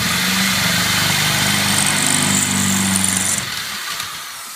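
Power drill boring into wet reef rock for an aquarium aquascape build, a close, steady high-pitched motor whine with grinding bite that holds for a few seconds and then trails off.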